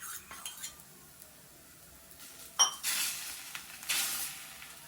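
Beaten egg being spread over a chapati cooking in a pan for an egg roll: a few scraping, clinking strokes of a utensil against the pan over a quiet background sizzle, with louder scrapes bunched toward the end.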